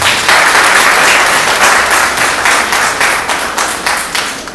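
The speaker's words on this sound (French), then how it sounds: "Applaudissez pour elle." Guests at an official wedding give the bride a loud, close round of applause: dense, continuous clapping from many hands that holds steady and then thins into scattered claps near the end.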